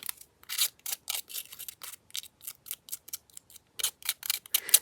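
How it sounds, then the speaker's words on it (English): Scissors snipping paper scraps for a junk journal, a rapid series of crisp close cuts in short irregular bursts separated by brief pauses, with no talking. "What do I do with my scissors?"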